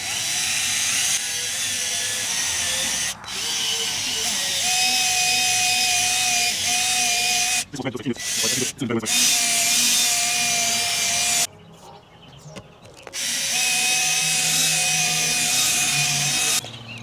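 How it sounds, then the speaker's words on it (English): A regular power drill buffing car paint with Meguiar's Ultimate Compound whirs steadily with a high whine, broken by a few brief stops and restarts, close by and loud, no talking. "let's see if we can kind of buff it out. I'm using just regular drill"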